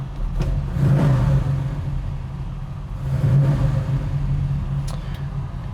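A 1965 Chevrolet Chevelle Malibu SS, just started and still cold, idles with a low rumbling engine that swells in two revs, close and steady.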